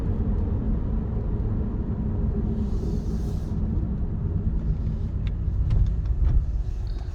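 A 2007 Nissan Maxima on a test drive, heard as a steady low engine and road rumble from inside the cabin, constant and fairly loud with faint ticks and a brief swell near the end, no talking.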